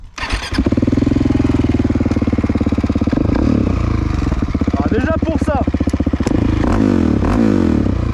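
A Husqvarna 700 motorcycle engine cranks and fires, then settles into a loud, close single-cylinder idle with rapid pulsing beats, punctuated by sharp revs around the middle and near the end; someone speaks briefly.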